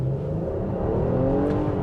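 A 2024 Infiniti QX60 Autograph luxury SUV engine accelerating hard at full throttle, a steady, loud rising drone with climbing tones and no talk over it.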